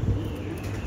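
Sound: racing pigeon cooing

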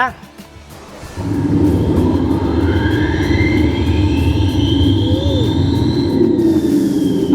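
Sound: simulated jet engine sound

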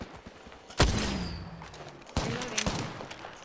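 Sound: gunfire in the video game Apex Legends

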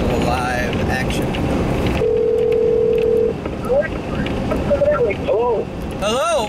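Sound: cell phone call being dialed

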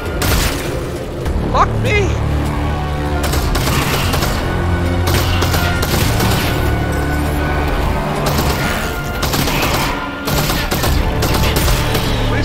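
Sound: gunfire from the video game Half-Life: Alyx

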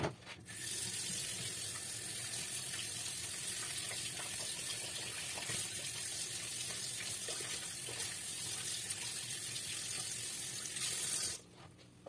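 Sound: tap water rinsing gladiolus bulbs

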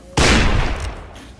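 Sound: gunshots in a video game

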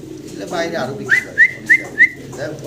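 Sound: male Lahori pigeon cooing

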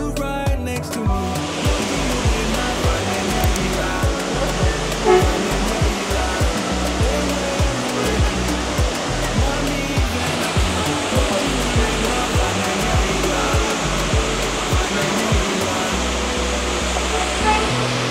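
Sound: Concord Falls waterfall in Grenada

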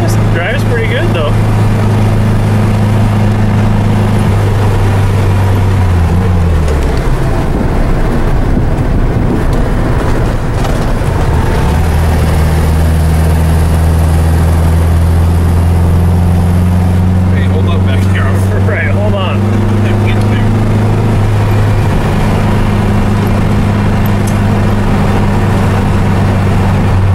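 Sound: Volkswagen car engine while driving

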